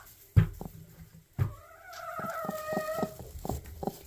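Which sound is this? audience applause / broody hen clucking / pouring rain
broody hen clucking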